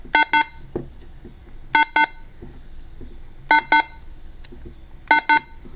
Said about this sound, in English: I push the button in, and it beeps, and I release it, and it beeps